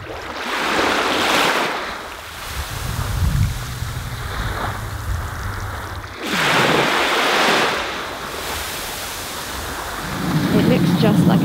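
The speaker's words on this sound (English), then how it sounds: "Let's enjoy the calming sound of the waves for a moment." Waves roll onto Takeno Beach on the Sea of Japan, surging and receding in broad washes of surf with some wind noise, steady and fairly close.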